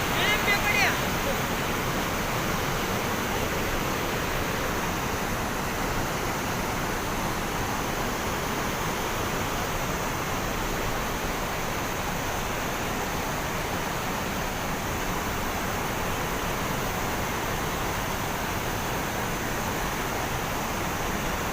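Strong river water rushes in a dense, unbroken roar around a traditional Kokan fishing spot, loud and constant throughout with no distinct breaks.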